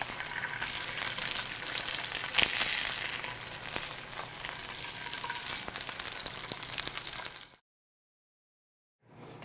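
Salmon fillets frying in a pan just after being flipped, a loud steady sizzle with faint crackles and a sharp pop near the start, cutting abruptly to silence before a brief return.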